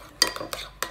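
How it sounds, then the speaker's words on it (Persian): A spoon stirs a sandwich sauce with lemon juice in a bowl, making a few quick scraping strokes close up. "اینا رو هم میزنم"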